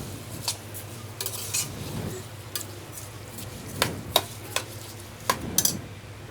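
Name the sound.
rice being fried and stirred in a pot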